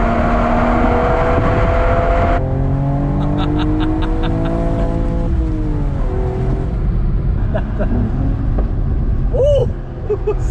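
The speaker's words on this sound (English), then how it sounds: "Beautiful backfire exhaust note, man" A Mercedes-AMG E53 Cabriolet accelerates hard with a loud, close droning exhaust whose pitch climbs through the gears, with sharp crackles and pops of backfire as the revs rise and fall.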